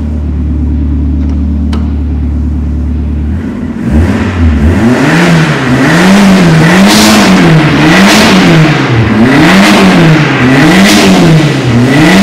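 Car engine revving after a quiet idle, rising into repeated swelling revs that climb and fall in a regular wave pattern, loud and close with no talk.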